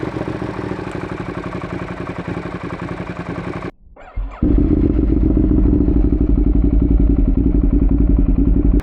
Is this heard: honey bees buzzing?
no